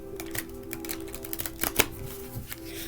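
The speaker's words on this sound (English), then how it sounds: "Turn them upside down. Shuffle them one more time." A deck of tarot cards is shuffled close by, giving a soft, uneven run of riffling flicks and rustles, with a steady low hum underneath and no speech.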